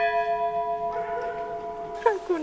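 A village church bell rings with a sustained, ringing tone that slowly decays, faint and somewhat distant, with a brief voice sound near the end, in Isverna, Romania.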